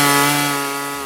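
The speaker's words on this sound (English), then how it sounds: "things like a chainsaw" A loud, steady chainsaw engine drone with a strong buzzing tone, easing off slightly as it runs, with no voices.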